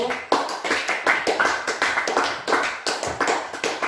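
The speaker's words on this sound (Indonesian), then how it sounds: "Oke, berikan tepuk tangan untuk kelompok 1." A classroom group gets a short round of applause after presenting, with a handful of people clapping in a quick, fairly even rhythm at close range, the claps sharp and moderately loud.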